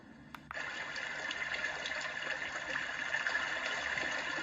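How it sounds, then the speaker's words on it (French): A small flowing stream played from a Lekato star projector's built-in sound setting, a soft continuous trickle and wash of water starting after a brief click, steady and fairly quiet throughout. "Un petit ruisseau qui coule."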